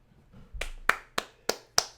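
Five sharp hand claps ring out close and alone, spaced roughly evenly after a soft rustle, each crack decaying quickly.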